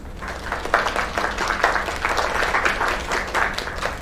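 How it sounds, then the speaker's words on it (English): A crowd applauds loudly and steadily, dense clapping filling the whole stretch with a few louder swells. "Another round of applause."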